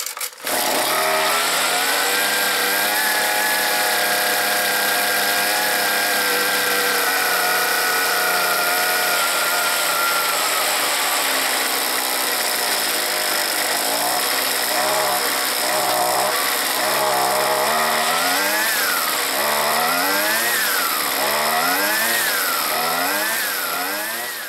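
A Husqvarna 125R petrol string trimmer engine runs loud and steady throughout, first holding an even idle-like drone, then revving up and down in repeated rising and falling bursts during repair.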